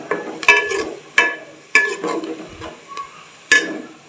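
Onions frying in a pan are stirred with repeated scraping strokes, a spoon clattering against metal about every second over a soft sizzle, close and fairly loud.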